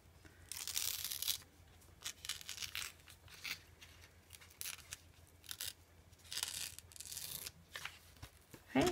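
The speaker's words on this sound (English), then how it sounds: "It's easier to tear downwards than it is to tear up." Paper tears by hand for an art journal page, heard as several bursts of close, crisp ripping and crinkling that come and go with short pauses between them, with no voices.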